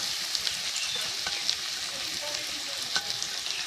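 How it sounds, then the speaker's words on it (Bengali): Finely chopped onions frying in hot oil in a pan for chicken bhuna, a loud, continuous close sizzle with occasional crackles and stirring scrapes. "এই পেঁয়াজগুলো এখন দিয়ে দেবো"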